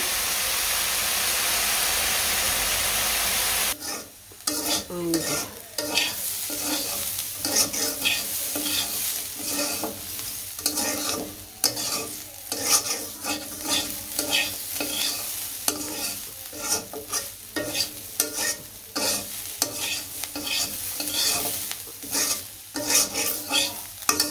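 Potatoes frying in a pan are stirred continuously, with steady sizzling and repeated scraping strokes close up throughout. No one speaks.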